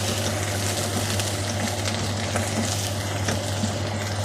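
Onions with salt fry in a pan, a dense continuous sizzle and crackle with occasional sharper pops, close and steady throughout, with no talking.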